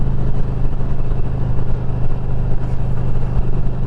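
A 2021 Indian Challenger Limited motorcycle engine under way, a loud steady low rumble with wind rush blended in, continuous and close, no voices.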